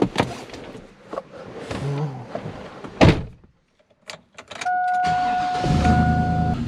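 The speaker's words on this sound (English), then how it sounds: "So you plug it up first, and then let's crank up the engine." A car engine cranks and catches after door thunks and handling noises, settling into a steady idle near the end, with a faint electronic whine over it.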